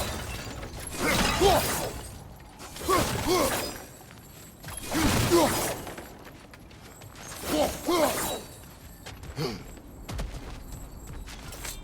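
Objects smashing and breaking apart in God of War Ragnarok, four or five loud crashing bursts spaced about two seconds apart with crunching debris, then a fainter final break.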